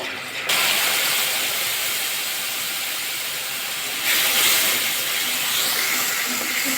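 Sharp sizzle as water hits spices tempering in hot oil, jumping in loudly after a brief quiet start and continuing as a steady bubbling hiss that swells again midway, with no speech.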